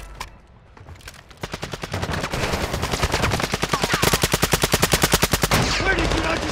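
Rapid automatic gunfire in the video game Call of Duty: Modern Warfare II, a dense run of loud, evenly spaced shots that builds after a brief quiet start and continues steadily for several seconds with no voices over it.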